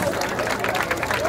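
Crowd clapping at a Brazilian rap battle, dense rapid applause blended with crowd noise and shouting voices, loud and close for a brief moment.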